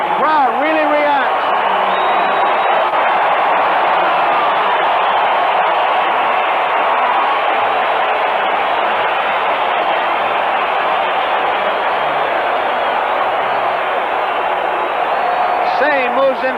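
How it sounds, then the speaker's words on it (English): A stadium crowd of about 56,000 roars steadily at a 1978 World Series baseball game in the bottom of the 10th inning, a dense and sustained wall of cheering with occasional whoops that stays loud throughout. "The crowd really reacts."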